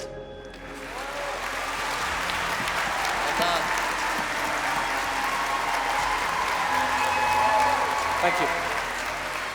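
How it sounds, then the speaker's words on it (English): A large audience at a London religious singing-competition finale bursts into a swelling round of applause for a named finalist. The clapping stays dense and loud throughout, with someone briefly speaking over it. "please give him a massive round of applause"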